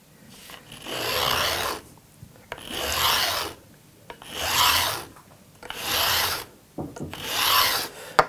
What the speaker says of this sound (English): this here is a fret end beveling file, and it basically puts an angle